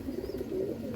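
A pigeon held in a breeder's hands coos in a low, continuous rolling murmur, close and steady with no talk.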